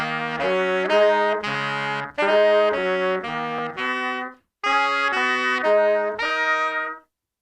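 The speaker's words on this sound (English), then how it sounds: "I have the DigiTech Whammy set to fifths, and it sounds like this." A saxophone through a DigiTech Whammy pedal set to fifths plays a sustained, harmonically rich melody of separate held notes with doubled pitch layers, in phrases with a short gap midway, alone without talk.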